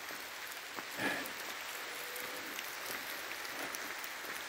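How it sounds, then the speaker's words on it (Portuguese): Heavy rain pouring steadily outdoors, a dense, even hiss of drops hitting surfaces throughout with a brief louder splash near the start, no voices. "andar numa chuva dessa"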